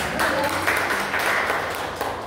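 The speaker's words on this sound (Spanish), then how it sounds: "un aplauso" Audience applause following a talk on the legal framework of problematic substance use and addictions, an even sustained patter of many hands clapping at moderate level for a couple of seconds.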